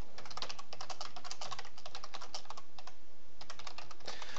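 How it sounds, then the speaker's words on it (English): Loud computer keyboard typing: rapid, irregular clacking keystrokes close to the microphone, continuing with brief pauses and no talking. "your keyboard's like insanely loud"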